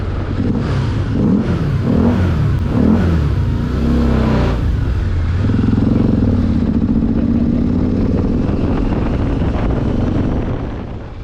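A motorcycle on a Poudre Canyon ride in northern Colorado, revving with the clutch pulled in inside a tunnel: loud, close engine roar with rising and falling bursts of throttle, then a sustained drone, plus some wind buffeting.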